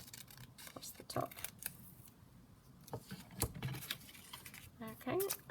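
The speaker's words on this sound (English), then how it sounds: "So I'm just going to trim it slightly more across the top." Scissors trimming paper for a junk journal, a series of crisp, irregular snips and rustles close by with soft handling noises between cuts, a voice talking over parts of it.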